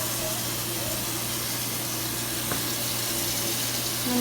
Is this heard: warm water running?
yes